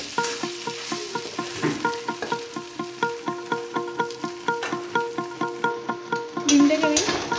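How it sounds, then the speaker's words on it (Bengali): Egg fries in oil in a pan with meat for Bengali-style spaghetti, a steady sizzle broken by regular rhythmic scraping strokes of a spatula, close and clear with no talking. "এবার এর মধ্যে ডিম ভেজে নেবো।"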